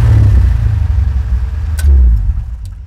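An LS V8 swapped into a Chevy Nova revs loudly up close, a steady low engine roar that dips briefly then surges again, with no talking over it.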